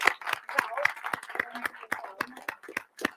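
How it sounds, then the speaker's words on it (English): Sparse applause at a festival event: individual hand claps ring out at an irregular pace, close and fairly distinct, with crowd murmur between them. "One more round of applause."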